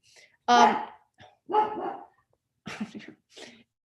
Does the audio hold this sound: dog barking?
yes